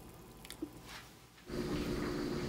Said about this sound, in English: Let's pour the water in.